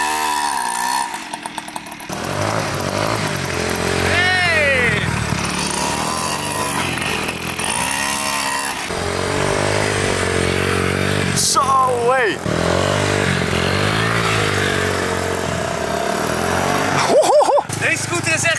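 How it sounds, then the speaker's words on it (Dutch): Motor scooter engine revving hard in repeated bursts, loud and close throughout, with people talking over the engine noise. "Deze scooter is echt dik."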